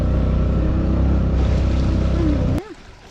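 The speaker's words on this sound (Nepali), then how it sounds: "यो इन्जिन" Engine of an off-road vehicle on a rough mountain track drones steadily and loudly with a low hum, then cuts off abruptly near the end, leaving quieter background noise.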